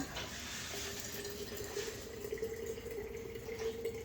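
Fermented cauliflower brine pours steadily into a jar, a continuous watery trickle with a faint resonant tone, close by and without talk.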